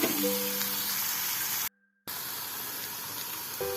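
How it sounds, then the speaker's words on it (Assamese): Fermented bamboo shoot (khorisa) fries in a pan for a fish curry, giving a continuous close sizzle that cuts out briefly before the hiss resumes. "এনেকৈ খৰিচাখিনি কিছু সময় ভাজি লওঁ।"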